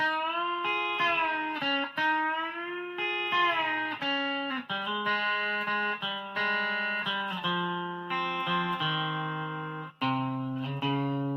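An electric guitar plays a melodic lead phrase alone, sustained notes sliding and bending with a clean, effected tone.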